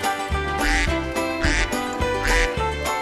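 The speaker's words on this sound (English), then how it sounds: "duck." Four loud, close duck quacks, each a nasal burst separated by short gaps, alone with no talk.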